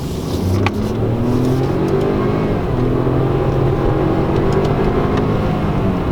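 Ford EcoSport 1-litre three-cylinder engine pulls hard under throttle in sport mode, a loud, steady, throbbing drone heard from inside the car.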